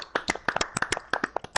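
A few hands clapping in quick, uneven rhythm for about a second and a half, close and crisp rather than a large crowd.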